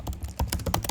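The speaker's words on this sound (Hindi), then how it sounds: "मैं लिखता हूँ" Rapid clicking keystrokes on a computer keyboard, close and crisp, in an uneven typing rhythm with no voices.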